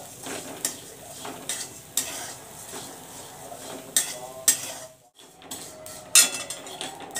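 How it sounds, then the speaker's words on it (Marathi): Green peas being dry-roasted in a pan and stirred constantly with a utensil: close, uneven scraping and rattling against the pan, with occasional sharper clinks and a faint sizzle, no talk. "सतत तिला हलवत राहायचं म्हणजे जळणार पण नाही"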